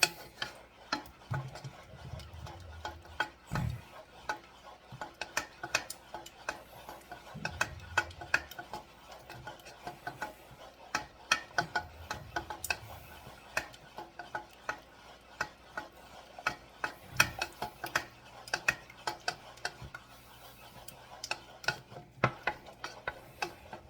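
Scrambled eggs being stirred steadily in a pot on a stovetop set to medium heat, with soft scraping and light clinks of the utensil against the pot in an irregular rhythm, faint sizzle underneath.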